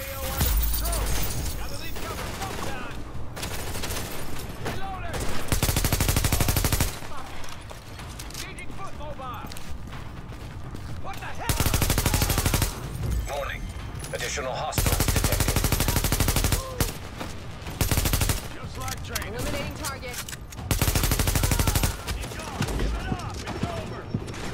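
Gunfire in the video game Tom Clancy's The Division, with repeated loud bursts of automatic fire alternating with quieter stretches over the full length and voices talking throughout.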